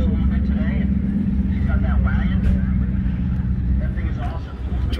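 A twin-turbo LS-powered race car at Heartland Speedway produces a loud, steady engine roar with a continuous low rumble, accompanied by crowd noise and voices.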